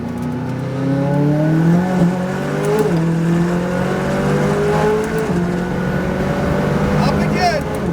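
A McLaren 570 GT4 race car accelerates hard on throttle, its engine note climbing through rising harmonics with quick shifts, loud and close inside the cabin.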